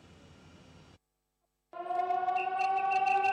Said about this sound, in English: Air raid sirens echoed across the capital